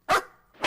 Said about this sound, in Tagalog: Uy, huwag mong paluin yung aso,